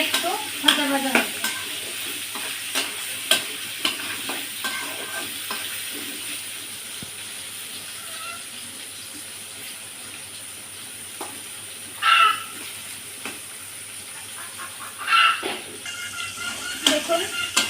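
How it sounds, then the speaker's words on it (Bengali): Potatoes and pointed gourd frying in a pan, a low continuous sizzle with intermittent spatula scrapes and a few louder bursts of stirring, with someone speaking over it at times. "দেখুন আমার আলু পটলটা বেশ ভাজা ভাজা হয়ে গেছে।"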